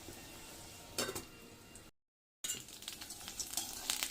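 Thavala adai, a lentil pancake, sizzling in oil on a low flame under a lid, a quiet steady crackle with a few clinks, broken by a short silent gap before the frying resumes.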